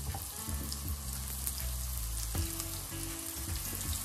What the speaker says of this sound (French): Ici, l'huile est chaude. Donc, je vais commencer par mes champignons.